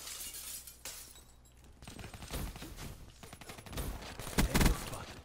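Automatic gunfire in the Black Ops III video game comes as rapid bursts mixed with breaking and shattering noises, fairly faint and uneven, with louder cracks toward the end.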